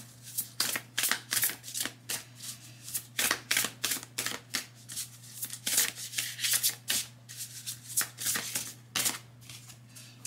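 A deck of oracle cards being shuffled by hand, close up, in a quick series of papery riffling bursts with brief pauses between them, over a steady low hum and no talking.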